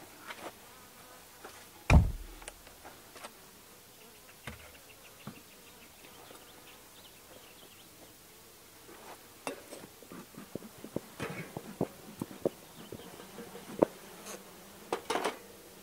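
Honeybees buzz faintly around a hive being opened, a soft hum scattered with light knocks and clicks of handling and one sharp thud near the start.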